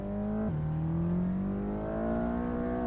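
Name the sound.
Mercedes car engine revving in video game Assetto Corsa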